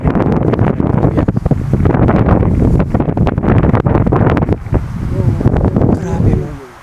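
Strong wind buffets the microphone on a farm hillside beside a road, a loud continuous roar with gusts that swell and ease, and a voice talks briefly over it.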